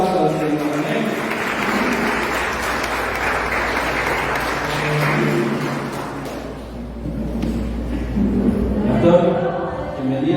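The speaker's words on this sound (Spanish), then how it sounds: "Den un fuerte aplauso al Señor." Congregation in a church clapping loudly together, a dense, sustained applause that swells and fades across the room, with a voice speaking over it.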